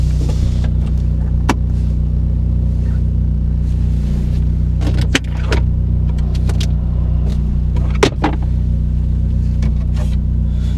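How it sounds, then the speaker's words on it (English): Cabin rumble from an old Vauxhall Corsa B on a test drive, a steady low engine and road drone with occasional sharp rattles and knocks from the interior, no talking. "There's so many rattles that come through this car."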